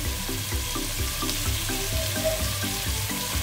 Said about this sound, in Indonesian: Kita tumis sampai tanek ya teman-teman.